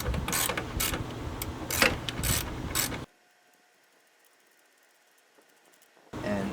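A ratcheting tool loosening the 1/2 inch screws on a Pentair MasterTemp pool heater clicks loudly and steadily for about three seconds. After a pause of near silence, the clicking starts again.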